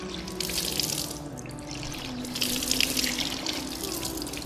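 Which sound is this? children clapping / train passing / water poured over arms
water poured over arms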